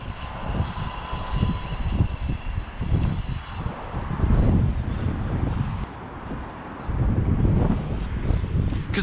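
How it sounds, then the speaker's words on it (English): Wind gusts buffet the microphone on top of a tall building in Watford, a loud broadband roar that swells and dips over nine seconds, with no voices. "Because the wind's coming from this side,"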